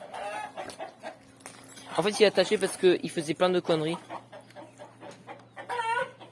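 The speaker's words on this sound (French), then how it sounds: "il y a les poules qui commencent à faire du bruit" Hens cluck and fuss in the background while someone talks over them in the foreground.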